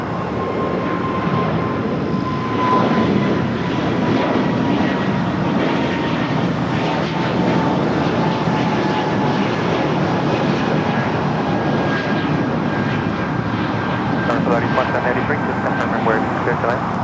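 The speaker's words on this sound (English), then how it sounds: "Airbus A220-300 now taking off." An Airbus A220-300 jet takes off from LAX runway 25 right in a loud, steady engine roar that holds throughout, with a voice talking over it.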